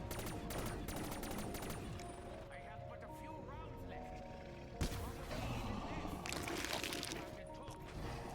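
Rapid gunfire bursts from Black Ops 3 Zombies on the Revelations map, dense and loud throughout, with a sharp heavy blast midway and continuous game sound and effects layered underneath.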